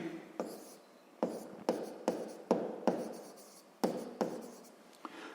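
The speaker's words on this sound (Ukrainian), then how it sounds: "Давайте запишемо." Pen writing out a math expression for a sixth-grade exercise: a series of quick scratchy strokes in bursts, close and fairly clear, separated by short pauses, with no one talking.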